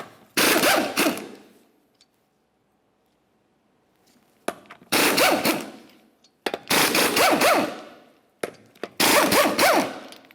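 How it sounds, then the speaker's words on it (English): Four long, loud bursts from an impact wrench remove the 19mm lug nuts from the wheel of a 2001-2005 Ford Explorer Sport Trac, with silent pauses between them. "continue on to removing all 5 of your 19mm lug nuts and then the wheel"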